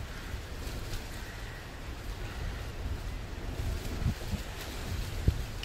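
Strong wind gusts across the open water while children sail, a steady broadband rush with surf-like wash and a sharper gust near the end.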